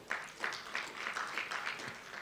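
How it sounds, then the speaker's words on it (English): Conference audience applauds after a presentation in a tent session venue: a moderate, fairly distant patter of clapping with a few stronger bursts, steady over two seconds. "Please, another round of applause for him."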